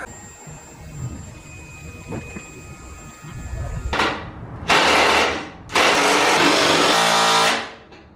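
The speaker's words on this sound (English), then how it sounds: "actually pump all the gas that's in it into my little cans" A homemade pump whirs in two loud sustained bursts, drawing gasoline from the tank of an LS-swapped Blazer into small cans, after a stretch of quieter background hum and clanks.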